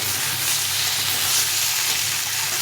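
Small rohu fish seasoned with turmeric and salt frying in a pan: a dense, steady sizzle, close and even, with faint stirring, no speech.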